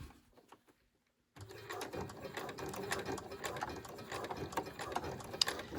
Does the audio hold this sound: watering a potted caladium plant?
no